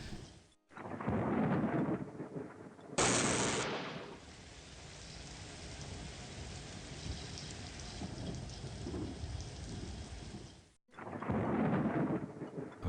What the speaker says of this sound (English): Somehow this causes a storm cloud to appear over this map.